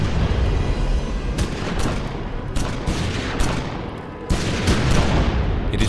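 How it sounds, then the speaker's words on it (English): A loud, chaotic barrage of rapid gunfire, sharp reports piling over one another in bursts with a brief lull before it intensifies again. "Suddenly, the stillness is shattered by the blast of gunfire."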